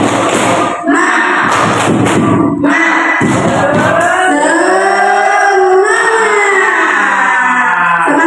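An indoor audience at a teachers' training session performs the 'tepuk semangat' clap chant, with loud, close group voices shouting in unison alongside thumping claps.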